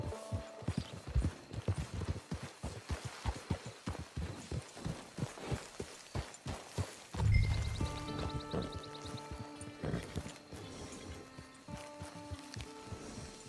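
Horse hooves clip-clop in Red Dead Redemption 2's online prologue, a steady, close trotting rhythm for about seven seconds before it gives way to game music and sustained tones.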